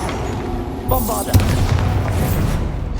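A Bombarda explosion spell bursts in Hogwarts Legacy, a loud low boom around the one-second mark followed by a second heavy blast with rumbling debris, under game music and a spoken voice.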